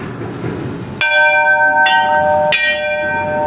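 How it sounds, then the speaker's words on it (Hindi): A temple bell rung at Banjari temple in Tarai Mal, struck twice with bright sustained metallic ringing that rises over faint background murmur, the second strike layering over the lingering tone of the first. "चलो संगवारी हो घंटी बेल बजा लिया जाए।"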